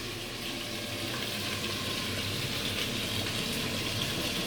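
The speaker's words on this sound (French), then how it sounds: "Vous commencez déjà à fouetter et remuer tout ça." A whisk and spoon stir beef stroganoff sauce with mustard in a pan, giving a steady wet sizzling swish that runs evenly and fairly quietly throughout.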